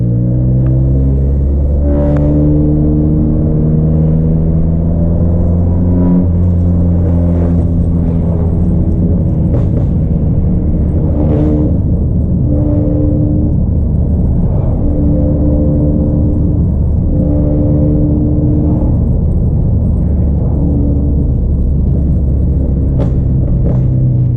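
A 2018 Honda Accord engine, just back from a clutch repair, idles steadily for the full stretch, a loud, close, even rumble with slight fluctuations and no talking.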